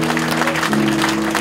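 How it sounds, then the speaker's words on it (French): Church congregation at a deliverance service in Lausanne cheering and clapping, a dense, continuous wash of applause and voices with a sustained tonal drone underneath. "Est-ce que vous pouvez acclamer pour le Seigneur?"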